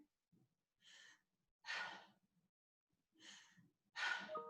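Four short, audible breaths from a person breathing shallowly with an arched back and rounded shoulders, diaphragm and rib cage held still; the breaths come in a rough, uneven rhythm, close and clear with no talking.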